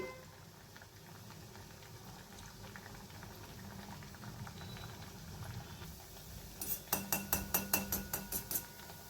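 Kapnya, sweet wheat-flour and jaggery snacks, deep-frying in hot oil over medium heat, a soft continuous bubbling with light clinks of a utensil and a brief run of sharp rhythmic taps near the end.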